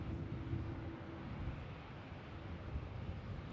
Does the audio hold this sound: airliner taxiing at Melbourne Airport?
yes